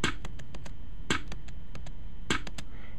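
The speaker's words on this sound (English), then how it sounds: "We were shooting at a metallic target, so we know that's the target being hit." A metallic target is struck by bullets, giving sharp, bright tings: three strong hits spaced about a second apart with faint smaller clicks between them, all over a steady background hiss.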